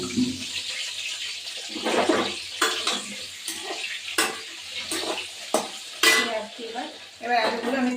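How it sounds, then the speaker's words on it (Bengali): Potato pieces for a meat curry frying with salt in a pan, with a steady sizzle broken by repeated sharp clinks and scrapes of a spatula stirring against the metal, close and fairly loud. "মাংসের আলুগুলো একটু লবণ দিয়ে ভাজবো।"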